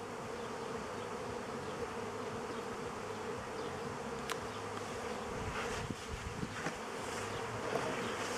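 Honeybees at an apiary drinking water give a steady, dense buzzing hum close by, with individual bees droning past now and then and no voices.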